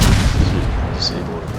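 Naval guns firing aboard the battleship Pommern in the World of Warships video game: heavy, rumbling cannon booms that roll continuously and loudly through the whole stretch, with a brief higher whistle partway through.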